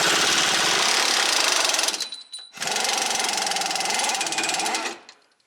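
A ratchet with a 21mm socket turns the drag link bolt on a Jeep JL Wrangler, two long bursts of fast dense clicking separated by a short pause, close and loud.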